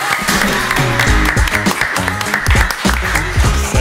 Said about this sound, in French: Et en musique, mesdames et messieurs, sous vos applaudissements, Dorian, Gillière, Ayas, Dodo.